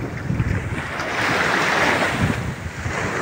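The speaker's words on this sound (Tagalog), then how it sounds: "Ganda ng dagat dito." Sea waves wash ashore at a beach in Candelaria, Zambales, a loud, steady surf rush that swells in the middle, mixed with gusty wind buffeting the microphone.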